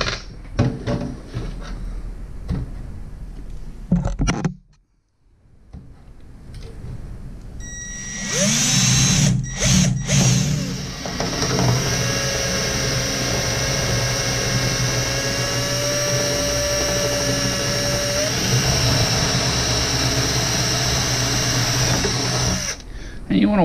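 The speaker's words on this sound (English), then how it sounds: "Make sure you don't drill into your fingers" A power drill whirs steadily at close range for a long stretch, with short bursts and pauses at the start and a person speaking beforehand.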